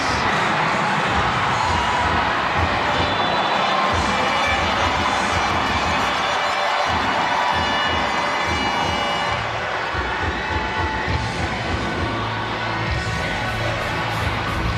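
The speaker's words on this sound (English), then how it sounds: "The crowd is definitely loving it here at the Nueva Ecija Coliseum." A loud, dense crowd roar fills a basketball coliseum during a professional league playoff game in Nueva Ecija, a sustained wash of cheering and shouting that holds steady throughout.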